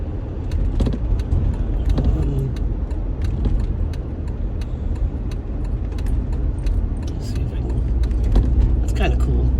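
A car drives along a foggy, snowy country road, its steady engine and road rumble continuous from near inside the cabin, with light rattles and clicks over the top and a voice talking throughout.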